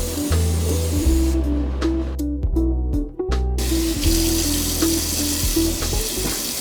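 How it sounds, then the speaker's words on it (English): A microwave part is washed by hand under a running sink tap, steady splashing water with the spray briefly changing as the part is moved, close and fairly loud. "now I'm going to take this over to the sink and wash it by hand."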